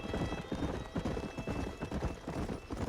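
Horse hooves clip-clop steadily in the Red Dead Redemption video game, a busy rhythmic clatter of several horses at close range with a faint whinny, no talk over it.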